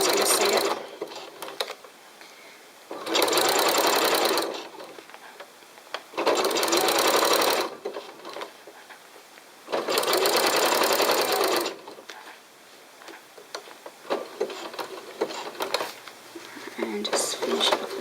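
A sewing machine runs in three sustained bursts of stitching along a seam line, each lasting about two seconds. Quieter pauses fall between bursts, with faint handling and mechanical clicks.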